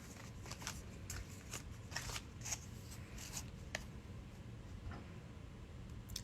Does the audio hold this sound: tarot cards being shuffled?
yes